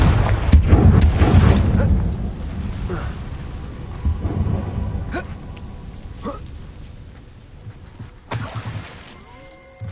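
Confringo spell blasts in Hogwarts Legacy: a loud opening barrage of booming, shattering explosions, then scattered sharp cracks and impacts trailing off over several seconds, with one bright crash near the end.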